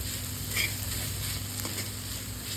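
Chicken kosha sautéing in a pan, a steady close sizzle with a spoon stirring through it and occasional scraping, no voices.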